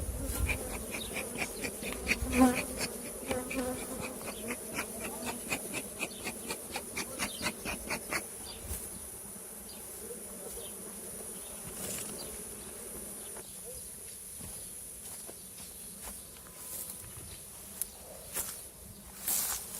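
Steady buzzing of many bees around a hive, close by, with occasional rustles and light handling noises mixed in.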